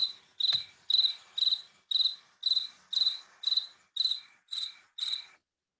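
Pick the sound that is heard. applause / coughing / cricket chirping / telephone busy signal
cricket chirping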